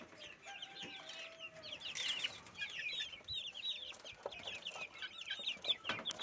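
Three- to four-month-old native country chickens cluck steadily at close range, mixed with higher chirping calls that build through the clip over a soft background.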